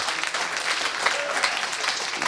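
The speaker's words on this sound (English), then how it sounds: "give him a round of applause for that" An audience at a Halo Championship Series esports finals event breaks into applause, a dense, bright burst of clapping from a crowd that holds steady for a couple of seconds.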